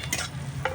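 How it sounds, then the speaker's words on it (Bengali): Thickly cut onions frying in a pan for chicken chow mein, a short soft sizzle with a stirring scrape at the start and another near the end. "পেঁয়াজটা একটু ভাজা হচ্ছে।"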